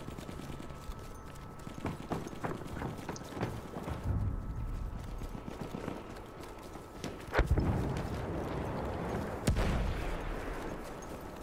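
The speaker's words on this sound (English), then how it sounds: "Oh, someone's on a horse!" Horse hooves clip-clop in a combat video game, a steady rhythmic clatter mixed with distant gunfire and a few sharp shots, fairly quiet and without talk.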